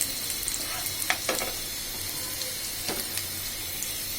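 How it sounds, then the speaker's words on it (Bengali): Taro stems and onion with green chilies frying in a pan, a steady close sizzle punctuated by sharp stirring scrapes and crackles, with no talking. "এইটাকে এখন আমি একটু ভাজি করব। যতক্ষণ পর্যন্ত একটু লাল কালার না হবে ততক্ষণ আমি এটাকে ভাজি করব।"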